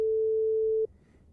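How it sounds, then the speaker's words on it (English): A pure 440 Hz sine wave tone, steady and unwavering at constant loudness for under a second, then cutting off abruptly and leaving faint low background hiss. "let's open one sine wave, this sine wave at 440 Hertz"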